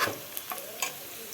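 Small onions, regular onions, ginger and garlic sauté in oil for a jackfruit curry gravy, a faint steady sizzle broken by a few light spoon scrapes and taps over a short stretch.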